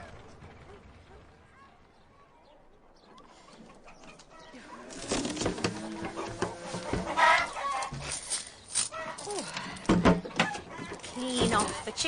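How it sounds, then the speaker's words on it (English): Chickens cluck and squawk in a noisy burst, loud and close, after a quieter stretch, with voices mixed in over the commotion. "Clean off the chicken"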